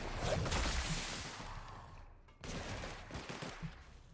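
Gunfire in the Outer Worlds video game during a fight against a big beast, a rapid burst of loud shots that fades into a brief lull, then a second volley of reports, with no voices.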